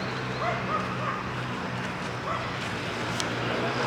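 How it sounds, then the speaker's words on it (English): A dog in a Paris park gives a few sharp yips and barks over a steady outdoor wash of wind and distant traffic, fairly close but not loud. "That dog is not having it."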